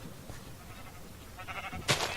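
A sheep in a video game gives a short, faint bleat near the end of a quiet stretch of low background noise.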